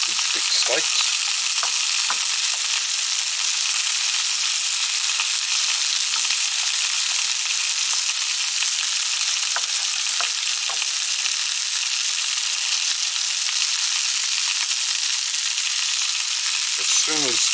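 Onions and big thick steaks frying in a pan, a steady loud sizzle held for a long stretch, with occasional brief clicks and scrapes.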